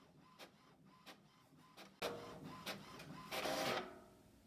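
A printer running off a Cricut Print then Cut calibration sheet: a few soft mechanical clicks and feeds, then louder whirring passes of the print mechanism and a final burst as the page advances, close and alone.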